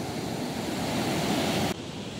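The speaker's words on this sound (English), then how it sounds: "Waves are loud." Ocean waves breaking on a beach on a calm, windless day, a loud, close, continuous roar of surf that drops slightly in level near the end, with no voices.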